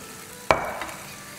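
Bone-in, medium chicken pieces drop into hot oil with a sharp splash that settles into a steady sizzle.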